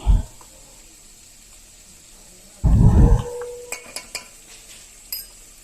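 A spoon stirs spices and cinnamon powder into mint corn rice in a cooking pan. A short burst of scraping is followed by a few light, close metallic clinks in an otherwise quiet room.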